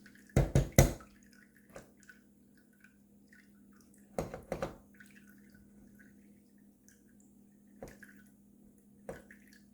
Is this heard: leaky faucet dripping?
yes